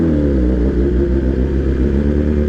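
A 2022 BMW S1000RR's engine and exhaust idle loudly and close, a dense, steady low rumble that swells slightly as if blipped, with no speech over it.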